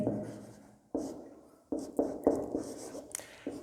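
Marker or chalk strokes writing a math formula on a classroom board, coming in scratchy bursts of a second or so separated by brief pauses, close and moderately loud.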